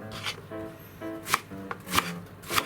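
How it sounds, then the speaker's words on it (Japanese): A knife cutting green onion diagonally into thin slices on a board, with several crisp, close chops at an uneven pace and light clatter in between, no speech. "これはいつも通りちょっとねお鍋に入れる感じで斜めの薄切りにしたいと思います"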